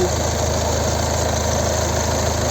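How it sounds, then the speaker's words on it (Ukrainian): A 2.0-litre diesel engine in a 2012 Ford Mondeo idles steadily, a low rumbling throb with an even, continuous rhythm, close and moderately loud, no voices. "Ось робота двигуна."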